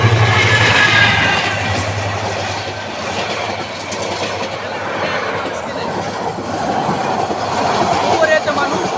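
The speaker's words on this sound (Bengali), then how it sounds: "রায়পুরের রাস্তায় রেলগাড়ি চলে আসছে।" A passenger train on the railway near Raipur comes in close and loud, rumbling wheels with clickety-clack and a thin wheel squeal, a low engine drone early on, and voices faintly underneath.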